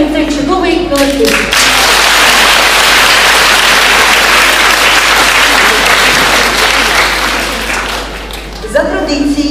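An audience at a school showcase event applauds a school ensemble, loud, dense, continuous clapping like heavy rain that swells and holds for several seconds and then eases off, with a voice speaking at the start and again as it ends.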